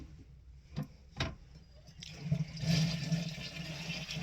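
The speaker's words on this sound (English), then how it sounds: "I'm just flushing the toilet in case he did pee" A household toilet flushes, the rushing water building and continuing steadily after a couple of brief clicks and knocks at the start, fairly close and with no talking.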